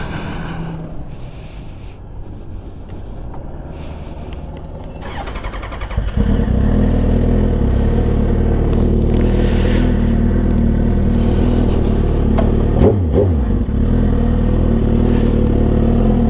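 A Suzuki GSX-R 1000cc sportbike revs up from a quiet idle and then holds a loud, steady engine drone while riding, with wind buffeting the microphone throughout and a brief sharp shift blip near the end.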